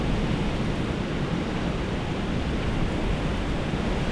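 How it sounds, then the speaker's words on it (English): Strong, gusty Chinook wind roars as a dense, continuous rush buffeting the microphone, loud and unbroken throughout with no voices. "You gotta know it's windy when branches start snapping off the trees"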